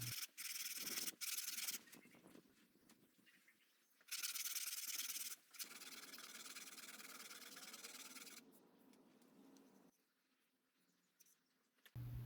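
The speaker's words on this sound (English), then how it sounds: "and a sheet of sanding paper for a precise fit." Sandpaper rubs over a hickory axe handle in repeated strokes, close and scratchy, with loud bursts separated by quieter pauses, no voices.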